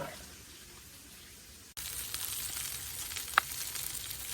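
Fish frying in oil sizzles steadily after a quieter opening, with one sharp utensil tap partway through.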